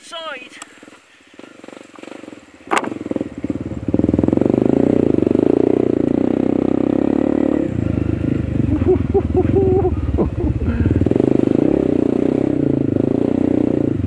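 A Honda CRF301 dirt bike rides on sand along the Pai river in a steady, loud engine drone with gear clatter and rough scraping. Wind buffets the microphone, and a rider's voice is briefly heard near the start.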